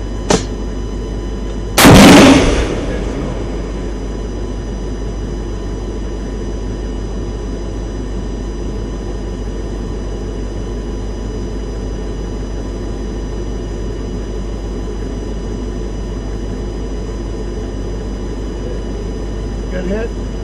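BGM-71 TOW anti-tank guided missile launch: a sudden loud blast and roar at launch that drops into a long, steady rushing drone as the missile flies, with a faint talking voice nearby.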